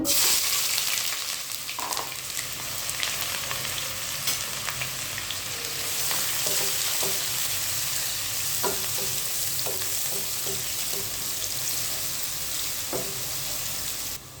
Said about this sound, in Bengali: তেলটা গরম হয়ে গেছে। এখন আমি পেঁয়াজ কুচি করে রাখছিলাম, পরিমাণ মতো এরকমভাবে পেঁয়াজ কুচি দিবেন। আমি ঢেলে দেব।